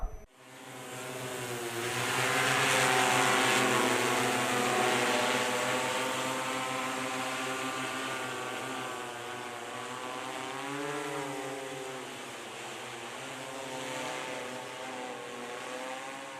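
An agricultural drone spraying micronutrients over a banana plantation and cocoa estate in Kerala, its propellers giving a steady, whining hum that swells and dips slightly as it passes, continuous and alone without talk.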